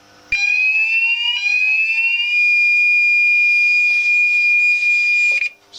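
A Gent Xenex fire alarm system, with Apollo 60 and 65 series devices, sounds during a panel test: a steady, loud electronic tone that sweeps briefly, then holds continuously for about five seconds before being reset.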